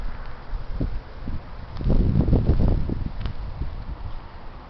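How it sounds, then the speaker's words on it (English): Heavy wind blowing through snow, a rough rushing roar that swells louder in the middle and buffets the microphone, with soft crunchy bursts underneath and no speech. "The heavy wind"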